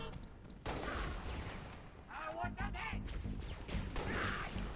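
Gunfire in the Halo: Reach video game: repeated shots and impacts in a dense battle mix, with game voices calling out over the fighting.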